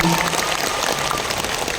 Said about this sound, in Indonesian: Boleh tepuk tangan untuk kita semua yang hadir pagi hari ini.